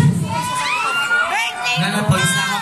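A crowd at a rap concert shouts, whoops and cheers loudly and continuously, with many voices blending into a dense roar nearby.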